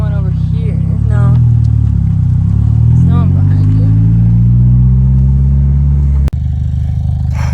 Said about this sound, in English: DNA motoring exhaust. It's loud. It is crazy loud.